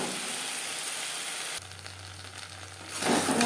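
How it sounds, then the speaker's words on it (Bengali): Potatoes fry with spices in a pan for a fish curry, a close, steady sizzle that briefly softens as the pan is stirred and then rises again. "চার পাঁচ মিনিট মশলার সাথে আলু বেশ ভালো করে কষিয়ে নেব"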